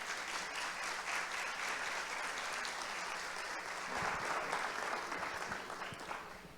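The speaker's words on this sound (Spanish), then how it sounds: "Vamos a darle un fuerte aplauso." Sustained audience applause at a political panel event, steady clapping from a crowd filling the room throughout, tapering slightly toward the end with no talk over it.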